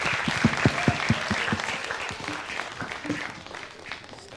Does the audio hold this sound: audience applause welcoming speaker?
yes